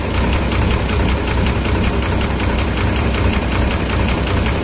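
A repaired vehicle's engine idles close up with a rapid, even mechanical ticking from the tappets, running continuously and loudly without variation.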